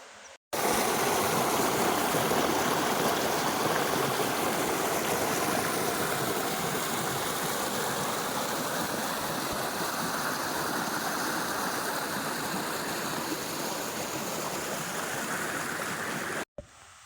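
Rushing stream water at the top of Pinsal Falls, a steady, dense roar of flowing water heard close and loud throughout with no voices.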